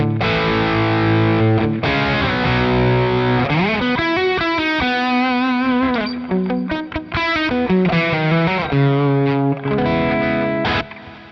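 Distorted Stratocaster on the bridge pickup, bright and biting, plays chords and melodic runs continuously through a Marshall Plexi amp model on a Quad Cortex, loud and up close with moderate, not heavy, amp crunch.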